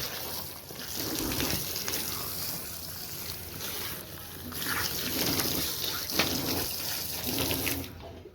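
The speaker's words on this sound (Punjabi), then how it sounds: "ਥੋੜਾ ਜਿਹਾ ਪੈਰ ਧੋ ਲਈਏ ਮਿੱਟੀ ਲੱਗ ਗਈ" Water splashes and runs over muddy feet in a close, fairly loud wash that surges in uneven bursts for several seconds before stopping.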